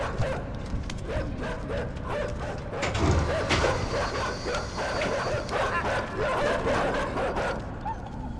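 Dogs bark and yip in the video game Inside, a dense, continuous run of sharp barks over a steady rumbling backdrop, with a heavier thud midway.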